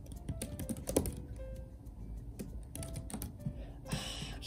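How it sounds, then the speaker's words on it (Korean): Rapid, uneven clicking of keys on a small compact iPad keyboard, close and fairly quiet, with a louder clatter near the end and faint room noise beneath. "과연 타이핑을 할 수 있을 것인가?"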